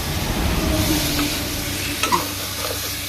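Chicken is stir-fried with spices in a pan while cooking inside a vehicle, giving a continuous, fairly loud sizzle over a low background rumble, with a couple of sharp scraping stirs near the end.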